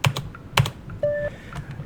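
Keys clacking on an old computer keyboard during a game of Technoshock, a few crisp presses close up ending in a firm press of the enter key, with a short electronic tone from the game behind.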